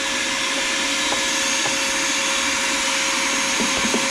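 A wet-dry shop vacuum sucks up grit from an RBG-712 blade sharpener, a loud, continuous close-up whine with faint rattles of debris being pulled in.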